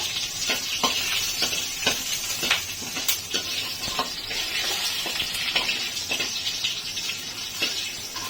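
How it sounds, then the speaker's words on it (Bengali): A spice paste is stirred in a pan with cooked chana dal, giving a steady sizzle under repeated scraping strokes of a spoon, close and clear throughout, with no one speaking. "এবারে এই মশলাটাকে আমি ভালো করে নাড়ব"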